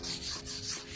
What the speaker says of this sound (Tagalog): Brasan muna natin para matanggal yung mga lumot na.